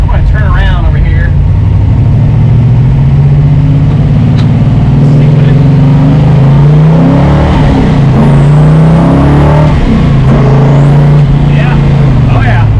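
A car fitted with a Tremec TKX manual transmission during break-in driving, its engine droning loudly and shifting pitch as it downshifts and pulls, with a voice speaking over the engine noise.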